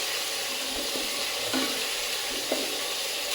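Spice paste with salt, turmeric and chilli powder sautéing in a pan, a steady hiss of frying broken by a few soft spoon scrapes, close and alone with no talk.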